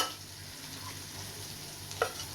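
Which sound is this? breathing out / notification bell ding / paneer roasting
paneer roasting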